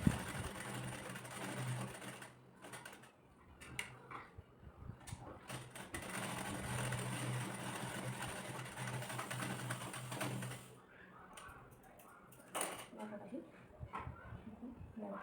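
A sewing machine stitches blouse fabric in bursts of rapid mechanical whirring that stop and start, with a pause near the end, while someone talks throughout.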